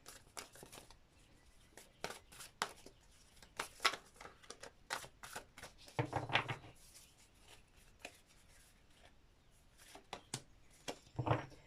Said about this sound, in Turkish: Kartlar o kadar büyük ki çok zorlanıyorum karıştırmakta.